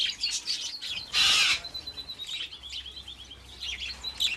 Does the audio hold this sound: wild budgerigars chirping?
yes